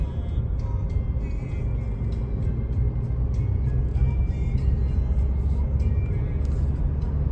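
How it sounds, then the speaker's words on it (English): A 2023 Nissan Kicks SR Premium driving at dawn, with steady low engine and road rumble from inside the cabin at a constant level, plus faint intermittent higher clicks and rattles. "I'll just do like a quick short drive here with it."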